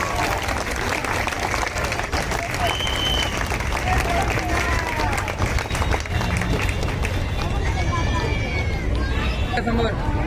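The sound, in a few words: crowd applause at an office inauguration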